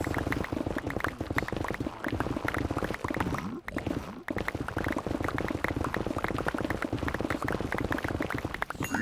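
Lava bubbling in the video game Minecraft, a dense continuous churn of thick popping bubbles, loud and close, with a brief dip partway through before the steady bubbling resumes.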